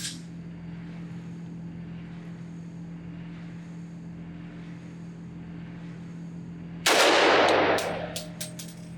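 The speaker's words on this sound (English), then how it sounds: "Let's run some supersonic ammunition through this first" A single loud crack from a rifle firing supersonic ammunition through a KAC 762 QDC/CQB-PRG compact .30 cal suppressor at a range, with a short ringing decay, after several seconds of steady low hum.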